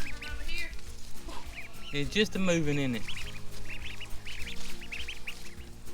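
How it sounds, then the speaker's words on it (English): Baby ducks quacking in a garden cover crop, with a cluster of quacks in the middle and fainter peeps later, while people talk nearby. "brought some little quackers over here"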